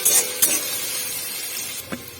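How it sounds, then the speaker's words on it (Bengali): Spoon scraping and stirring chopped garlic and ginger in a pan over a soft, steady sizzle of frying, with a few sharp scrapes standing out. "রসুন আর আদা কুচিগুলো ফার্স্ট একটু নেড়ে চেড়ে নেব"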